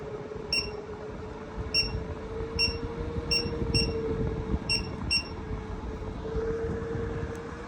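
A 12/24/48 volt OutEquip Pro rooftop air conditioner with heater runs on high as a steady close hum and rushing air, while a series of short high beeps sounds at the start.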